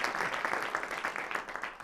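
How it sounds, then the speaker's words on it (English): Audience applause at an evening library and historical society talk in New Canaan, a steady, dense patter of many hands clapping throughout, moderately loud with no voices over it. "So just a quick round of applause for the library and the Historical Society."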